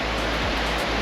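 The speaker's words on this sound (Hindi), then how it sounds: "वैसे पानी का बहाव बहुत तेज़ है" Fast-flowing mountain stream on a broken road near Manali, a dense, steady rushing roar of water, loud and continuous throughout.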